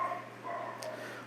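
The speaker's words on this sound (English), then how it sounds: "you may hear my dogs barking in the background" Dogs barking somewhere in the house, faint and muffled behind a steady hum, with a few short yips spread through the moment.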